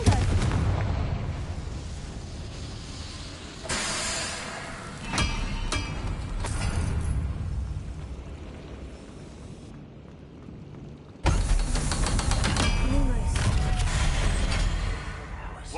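Booming fiery blasts from the Confringo spell in the video game Hogwarts Legacy, several loud explosive bursts with rumbling tails layered over continuous game music and combat effects, heard up close.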